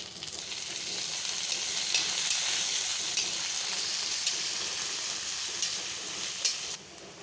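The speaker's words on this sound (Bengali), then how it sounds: "এতে এবার দিয়ে দিব পেঁয়াজ কুচি।" Chopped onions frying in hot oil along with fried garlic paste and bay leaf, a steady close crackling sizzle with occasional stirring scrapes throughout, no talking.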